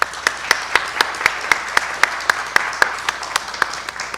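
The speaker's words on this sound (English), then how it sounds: "I'd like to give a big round of applause to our entrepreneurs." Audience at an entrepreneurship careers event applauding, heard as a sparse, evenly spaced run of sharp, loud claps, like a few people clapping in slow rhythm, moderately close.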